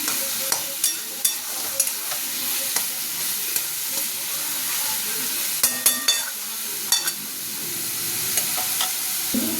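Ash gourd chechki stir-frying with mustard seeds and two chillies, a low steady sizzle broken by scattered spatula clicks and scrapes against the pan, close and moderately quiet.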